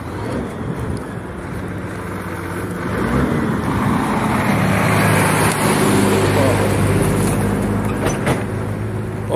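A truck climbs the road near a curve at Barra da Volta, its engine a steady low rumble that swells louder toward the end, mixed with traffic and wind noise, with some speech faintly present.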